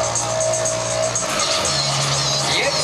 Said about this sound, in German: Die haben ja ein sehr kurzes Stück und trotzdem werden Sie sehen, wie die in der Beschleunigung schon richtig was rausholen.